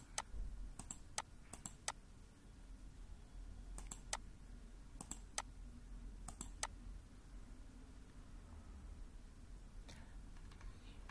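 Computer mouse clicks sound in sharp, close pairs and singles, scattered irregularly across a quiet room with faint background hum and no talking.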